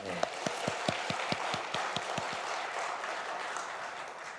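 A short burst of hand clapping from a small church congregation, with distinct individual claps over a wash of noise, fading out within a few seconds.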